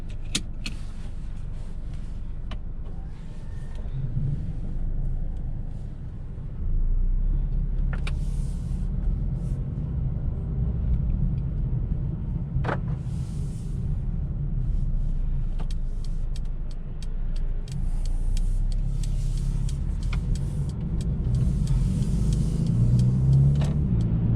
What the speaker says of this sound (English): let's go ahead and take this Mercedes-Benz CLA 35 on a test drive and see how it does